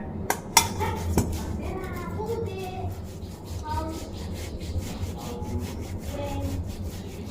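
Boiled potatoes rubbed over a small-hole grater, giving a steady scraping and rasping texture with a few sharp metallic clinks near the start, with faint background sounds underneath.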